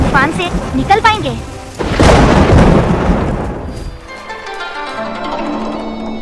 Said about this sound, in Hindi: हमें तूफान के बीच से निकलना होगा।